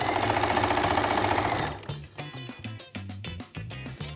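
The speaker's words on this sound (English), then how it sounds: "I'm going to head to my machine and stitch it with the seam allowance that I'm following with the pattern." A home sewing machine stitches a seam on a sleeveless tank top, its motor running in quick uneven bursts with short pauses, close and fairly loud, after a stretch of louder background sound.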